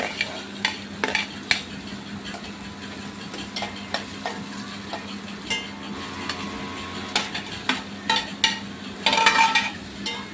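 Onion and tomato frying together in a hot pan for a wild-vegetable bhaji, a steady close sizzle broken by repeated sharp scrapes and clinks of a spoon stirring, with a louder burst of stirring near the end.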